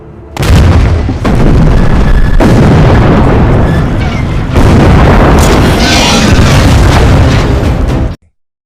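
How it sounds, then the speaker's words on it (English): Soviet artillery pounding German army positions in a World War II war film, with loud, continuous heavy booms and bursts rolling one after another for about eight seconds, dense and close. "the Soviet Union artillery began to attack the German army."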